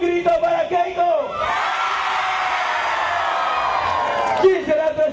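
A large crowd at a campaign rally in Pucallpa, Peru, lets out a loud sustained roar of shouting and cheering, with a voice on the amplified sound system heard briefly before and after it.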